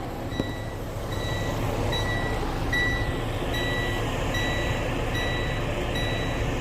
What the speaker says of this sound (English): All these buzzers and lights flashing.